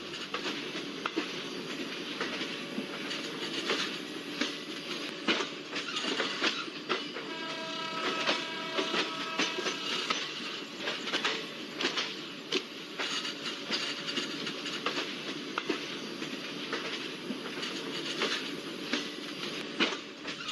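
A Garib Rath Express train departs Kochuveli station in Trivandrum, rolling steadily with continuous rumbling and rhythmic wheel clatter, a faint horn-like tone rising midway, heard from a moderate distance.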